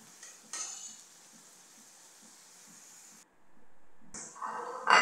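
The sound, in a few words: stir-frying spices for broiler chicken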